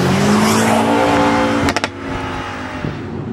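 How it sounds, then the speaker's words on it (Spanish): BMW M5 Competition engine in Sport Plus mode revving hard with a sustained roar, followed by a few sharp backfire pops, loud and close with no talking. "Lo he puesto en modo Sport Plus en motor para que podáis oír esas aceleraciones y ese motor petardeando"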